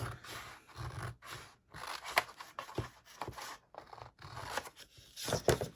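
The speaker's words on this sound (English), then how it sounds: "I'm just going to grab my scissors and I'm going to go ahead and I'm going to cut" Repeated close-up snips and scraping of scissors cutting through paper, in irregular bursts with short pauses, while making a mini album.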